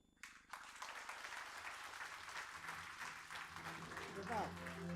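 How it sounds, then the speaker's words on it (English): An award ceremony audience bursts into clapping after a quiet moment, the crowd's applause rising quickly and holding as a sustained, even roar of hands to the end. "Everybody has to clap, huh?"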